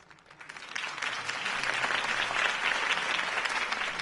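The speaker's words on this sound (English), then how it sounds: "could have heard that applause" A crowd in the Batman Telltale game applauds after a campaign speech, steady dense clapping that swells in the first second and holds loud until the end.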